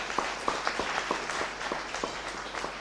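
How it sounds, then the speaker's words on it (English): Steady applause from a conference audience at a NixCon 2018 Linux talk, a dense wash of many hands clapping at middling distance with a few sharper individual claps standing out, continuing evenly throughout without speech. "So another round of applause for Richard."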